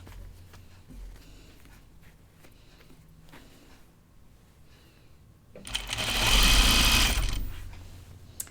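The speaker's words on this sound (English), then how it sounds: "I'm going to sew it at a 1/4 inch seam" A sewing machine stitching a quarter inch seam runs in a steady loud whirring burst near the end, after a quieter stretch of faint handling sounds.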